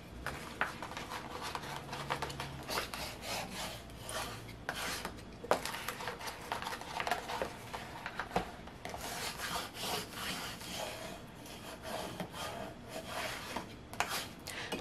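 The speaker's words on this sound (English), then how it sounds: "So I'm gonna put this vinyl down. Use my scraper to press firmly." A scraper presses Dollar Tree adhesive vinyl down firmly, giving a quiet, continuous rubbing and scratching with repeated strokes.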